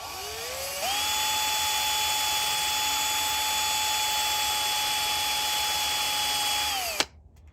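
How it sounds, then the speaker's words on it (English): A power drill fitted with a wire brush spins up and whines steadily at high pitch for several seconds, then cuts off abruptly. "While I've still got the wire brush out on the drill, let's hit this again."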